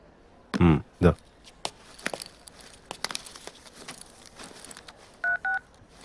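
Two short electronic keypad tones from a mobile phone being dialed, coming late and close together after a couple of heavier thumps and faint rustling in a quiet room.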